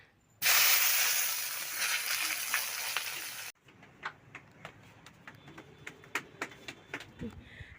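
Eggplant pieces dropped into a hot pan, a sudden loud hiss that holds for about three seconds and cuts off, followed by scattered sharp ticks and pops.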